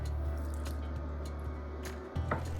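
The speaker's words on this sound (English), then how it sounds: "I saved a little bit of my pasta water. I'm just gonna put a little drop in here." A small splash of saved pasta water poured into a pan of simmering bolognese meat sauce for pappardelle, heard as a soft wet pour and gentle bubbling over a steady stovetop hum.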